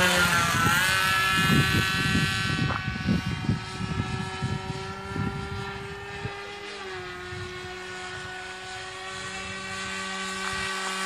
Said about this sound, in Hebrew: אתה יודע שהמטוס הזה גם יכול לטוס לאט, נכון?